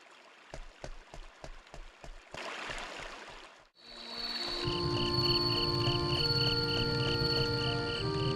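Crickets chirp steadily in the summer countryside of the game Boku no Natsuyasumi, a dense, continuous insect chorus rising after a few sharp clicks and a brief hiss, with no talking.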